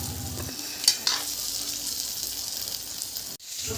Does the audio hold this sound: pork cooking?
yes